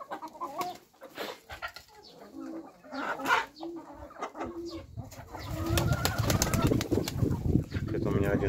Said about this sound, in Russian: Это у меня один старый петух.